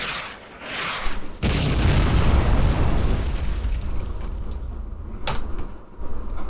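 Strike explosions in a video game land one after another, a sharp crack followed by a heavy, sustained booming rumble that slowly fades, with a few softer thuds after.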